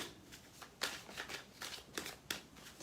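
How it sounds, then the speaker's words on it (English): Tarot cards are shuffled close and quiet, with several quick riffling bursts and soft papery flutters in an uneven rhythm, with no voices. "it feels like when I'm shuffling the cards, I'm often getting the energy"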